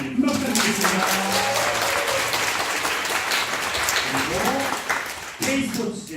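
Audience applause at a Korean public testimony event as guests are introduced, sustained steady clapping filling most of the clip, with a speaking voice over it that briefly cuts in near the end.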